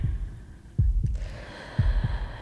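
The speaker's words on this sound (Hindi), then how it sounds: "तुम्हारे दिल की धड़कनें मेरे कानों में ड्रम की तरह बज रही हैं" A heartbeat sound effect in a Hindi vampire-girlfriend ASMR roleplay: two close double thumps, deep and soft, with a low steady hum beneath and no talking.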